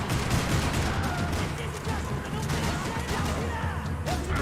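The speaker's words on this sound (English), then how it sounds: "Another parking lot rattling with gunfire." Scattered gunfire in Max Payne 3 crackles in bursts over a low rumble, sharp shots recurring irregularly at middling distance in a parking lot, with some muffled voices underneath.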